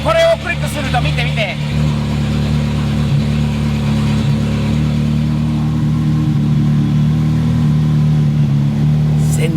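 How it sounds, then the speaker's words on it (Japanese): A loud, throaty Ferrari engine revving and rumbling continuously through an aftermarket Fi exhaust, with people talking over it. "この FI は本当に最高なマフラーだよね"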